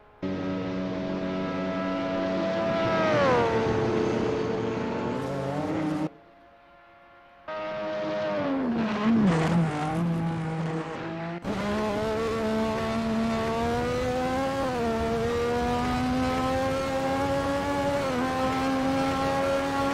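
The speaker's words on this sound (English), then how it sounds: "Just listen to the beautiful sound from one of those Lotus 9080s." A Lotus 9080 race car roars past in onboard footage at an endurance race, its engine howling through rising and falling revs with gear changes and a brief drop-out, loud and close, with no voices.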